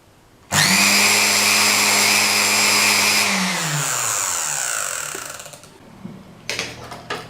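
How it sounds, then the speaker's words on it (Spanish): A universal electric motor running in reverse starts abruptly with a loud high whine, holds steady for a few seconds, then winds down and stops, followed by a few light clicks and handling knocks. "el motor gira en el sentido contrario"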